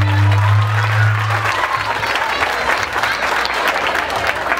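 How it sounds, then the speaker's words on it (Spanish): A carnival crowd at an Afro carnival in Santander de Quilichao applauds loudly and continuously, with a low droning tone and crowd noise running beneath the clapping. "Les escucho un fuerte aplauso."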